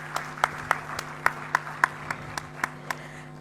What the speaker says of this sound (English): So ladies and gentlemen, please give a big round of applause to Professor Rasheen Bapu.